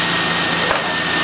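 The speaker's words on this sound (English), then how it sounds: "See how the engine's idling down?" A 2006 Pontiac G6 GTP's 3.9L V6 idles down with a steady, whirring drone, loud and near, and no one talks over it.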